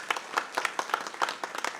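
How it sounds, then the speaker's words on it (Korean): A church congregation claps in comfort for a member whose father has just died, during Sunday worship; irregular scattered claps from a modest crowd, moderately near, with no talking over it. "우리 함께 위로의 박수 하십시다"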